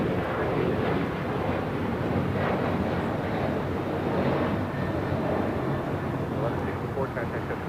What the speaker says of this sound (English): This is United Airlines 1164 taking off to Washington Dulles on a 737-800.